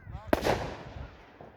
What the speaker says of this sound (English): These are heavy hitter fireworks.